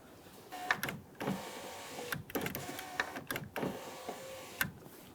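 Power window motor on a 2006–2012 Ford Fusion door running during a switch test, several short whirring bursts with clicks between them, faint and close, no talking.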